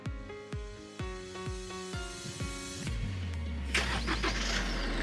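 A Chevrolet Colorado 2.5 LTZ automatic pickup starts by remote key: a series of rhythmic starter cranks builds into the engine catching and settling into a steady close idle, with no talking.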